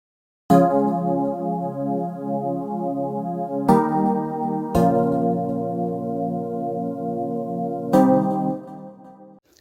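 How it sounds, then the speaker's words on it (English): Piano patch from Toxic by Hazard laying down a simple chord progression for an amapiano beat: four sustained chords struck in sequence, full and close, ringing out with no voices. "First, we have this piano from Toxic by Hazard, and I'm simply just gonna lay down a simple chord progression"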